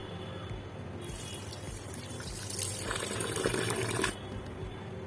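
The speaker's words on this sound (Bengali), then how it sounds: "এখন আমি পোলাও চালটা ভালো করে ধুয়ে নিব।" Pulao rice being washed in water, with a steady splashing, swishing wash that swells louder between about one and four seconds, close by and with no talking.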